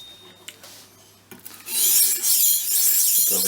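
Steel knife blade worked in circles across a smooth, water-wetted sharpening stone on a Russian-style knife sharpener, a steady close scraping rasp that starts after soft clicks and handling knocks and continues loud to the end.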